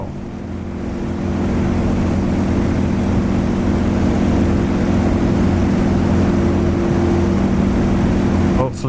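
Propeller engine of a Yak warbird in the DCS flight simulator, a loud steady droning hum that swells up over the first second and holds, with a brief click at the end.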